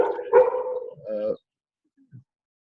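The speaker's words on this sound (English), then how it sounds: "there's a dog barking" A dog barks a few times in a quick cluster, fairly close and moderately loud, followed by a faint single yip after a pause; no voices accompany it.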